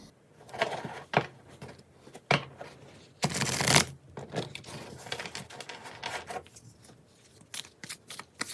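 Tarot cards being shuffled by hand during a reading: a series of quick papery riffles and flicks in bursts, close and fairly quiet, with one longer dense riffle in the middle.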